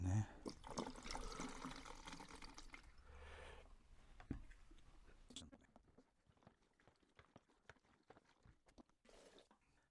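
Tap water runs steadily during a rinse of developed colour film in a home darkroom, a rushing stream under a voice for the first five seconds before it stops and only quiet drips and faint handling remain.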